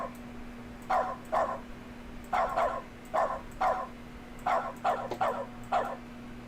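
A dog barks in the video game The Stanley Parable: Ultra Deluxe, sharp barks in short clusters of two and three, moderately loud over a steady low hum.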